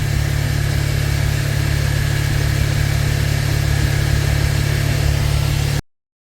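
A Bajaj Pulsar 125 motorcycle engine idles at very low RPM with a steady, even, fairly loud hum, then cuts off abruptly just before the end.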